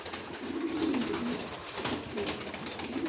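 Pigeons coo nearby in low, rolling murmurs that repeat through the moment while they are offered grit, against a soft background of bird activity.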